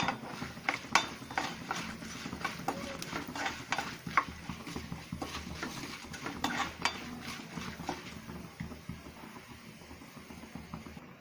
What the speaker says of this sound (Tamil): உளுந்து சேர்த்துக்கோங்க, கடலை பருப்பு சேர்த்துக்கோங்க. சேர்த்துட்டு நல்லா வறுத்துக்கோங்க.